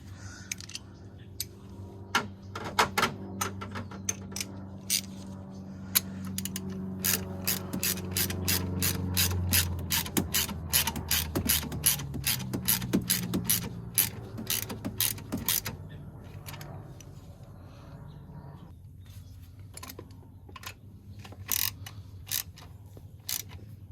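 A ratchet with a 15 mm socket turns a transmission mount bolt on a 2008-2012 Ford Escape with the 3.0L V6: close, rapid clicking in bursts, with pauses and a low grinding creak between strokes.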